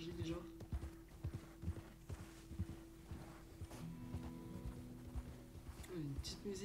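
Horse hooves clip-clopping at a slow walk in the Red Dead Redemption 2 online game, a steady rhythm of soft thuds under a man's speech and game music.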